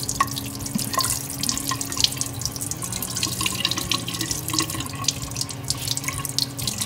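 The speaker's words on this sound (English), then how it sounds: "now we're going to rinse it under some water." A garden hose sprays water across a scrubbed awning, a loud, steady rushing splash with spattering drips, continuous throughout and without voices.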